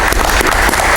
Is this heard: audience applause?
yes